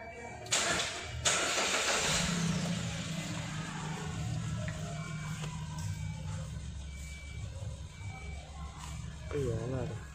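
A 2020 Carry's engine cranks in two sharp bursts, then catches and settles into a steady low idle hum close by, with faint voices now and then.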